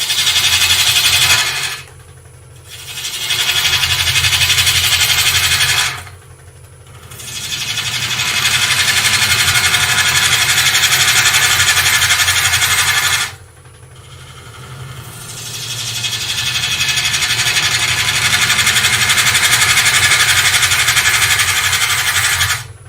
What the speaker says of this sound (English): I'm just twisting my hip in, lifting the handle and giving the gouge a little twist, and I'm developing a cove here